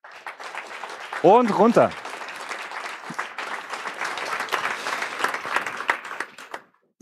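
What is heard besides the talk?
audience applause for presenting team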